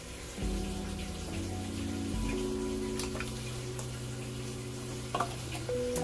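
Water runs gently over the roots of a strawberry plant being rinsed by hand, a soft steady trickle with faint splashes and a low hum underneath, fairly quiet and without talk.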